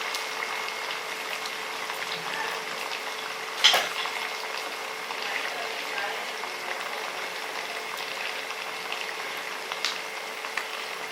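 Flattened vada batter sizzles in hot oil, a steady bright crackling hiss that runs evenly throughout, broken once by a brief clatter early on.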